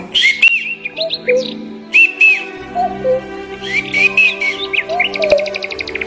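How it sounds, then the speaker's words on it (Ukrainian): Spring birds sing loudly and close, a lively mix of clear whistled phrases, quick chirps and trills overlapping throughout. "Світ наповнився пташиними голосами."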